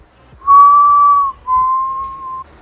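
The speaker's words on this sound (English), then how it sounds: "the whistle kept on going," A single clear whistle tone sounds twice, a long held note then a slightly lower second one after a short break, loud and close against near silence.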